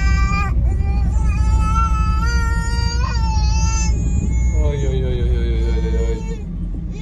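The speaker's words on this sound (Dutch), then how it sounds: "Ik hoor een boze baby." An angry baby in a small town cries in loud, wailing bursts with rising and falling pitch, the sobs repeating over a low rumble of street background.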